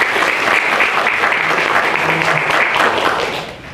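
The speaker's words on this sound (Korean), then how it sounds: "큰 박수를 부탁드립니다." Audience applause at a youth forum event, a dense burst of clapping that stays loud for about three seconds and then fades out.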